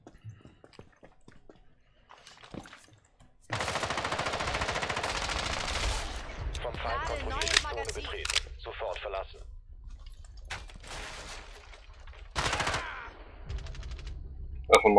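Bursts of automatic gunfire in Rainbow Six Siege, loud and close, spanning several seconds with a few sharper single shots later amid game noise.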